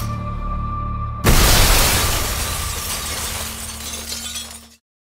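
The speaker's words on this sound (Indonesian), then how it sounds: "pukulannya tersebut membuat kaca di sana pecah" Glass shatters with a sudden loud crash after a punch, and the broken pieces hiss and tinkle for several seconds before the sound cuts out.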